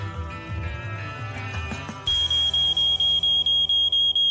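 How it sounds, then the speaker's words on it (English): A loud, high-pitched malfunctioning smoke detector alarm beeps in rapid, regular pulses after a brief stretch of low background noise. "malfunctioning smoke detector"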